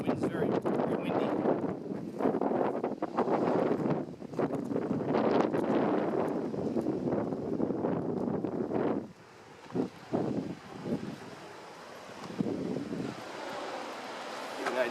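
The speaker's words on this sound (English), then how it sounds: "The wind's very windy." Strong wind buffets the microphone on the Kalalau Trail at Crawler's Ledge on Kauai's coast, roaring loudly for most of the clip with ocean surf mixed in. The wind briefly drops off before gusting again.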